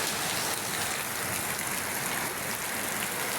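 Heavy rain falls steadily over flooded rice fields, a dense even hiss of drops on surfaces and water that continues unbroken throughout, with no voices heard.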